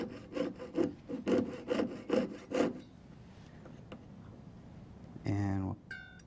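Jeweler's saw cutting sheet metal for a riveted jewelry piece: about seven rhythmic back-and-forth rasping strokes, close and fairly loud, then quiet, with a brief tonal sound near the end.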